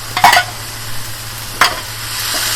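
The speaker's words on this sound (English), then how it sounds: "Fry it up a little bit on slow flame." Schezuan fried rice sizzles gently on a low flame after sauce is added, with a low steady hum beneath and two brief bursts of spatula scraping and stirring.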